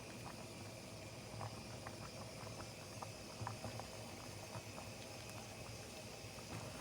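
Pot of Korean pollock stew (dongtae-jjigae) boiling steadily on the stove, a soft continuous bubbling and hiss with occasional small pops, quiet and close.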